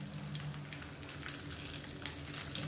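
Curry leaves, mustard seeds and green chilies crackle and sizzle in hot oil for tomato chutney, a steady close hiss with scattered sharp pops and spits, no voices.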